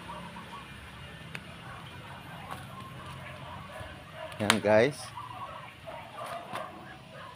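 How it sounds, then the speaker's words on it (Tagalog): A single brief quack from farm ducks rings out over faint background talk and ambient noise. "yan ang ating mga alagang pato naman"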